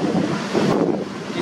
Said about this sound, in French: avec ces vagues que vous voyez